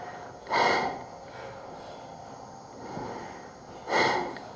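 Breath of fire in a Kundalini yoga practice, two sharp, forceful nasal exhales about three seconds apart, close and loud, with a softer breath between and no talking.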